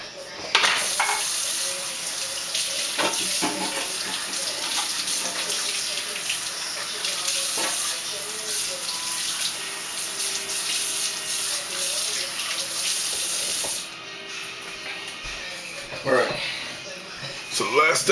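A kitchen tap runs steadily as a rock bass is rinsed under it, continuous close splashing water with brief handling clunks, and someone talks over it now and then.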